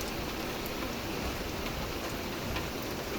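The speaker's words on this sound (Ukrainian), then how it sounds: "Дощ, град, а потім знову дощ." Heavy rain mixed with hail pours steadily in a dense, even hiss, close and continuous, with no voices.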